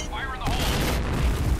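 Grenade explosion in the shooter game Point Blank: a sudden loud broadband boom with a rumbling tail, preceded by faint game sounds and mixed with gunfire.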